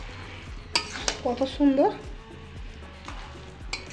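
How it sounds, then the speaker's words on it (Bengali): Semai vermicelli cooks in a pan with metal clinks and scrapes of a utensil against the pan and a soft sizzle underneath, while someone speaks briefly over it. "দেখুন সিমুই রান্না আমার হয়ে আসছে"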